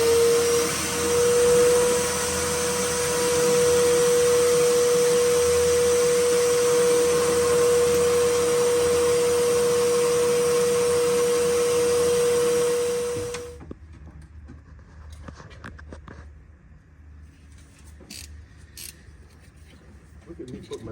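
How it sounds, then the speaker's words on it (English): A shop vacuum roars loud and steady, drawing suction on a coolant filler tube of a 500 HP Detroit Diesel 8V92TA in a Prevost bus, then cuts off abruptly, leaving faint clinks and quiet talk. "got the shop vac"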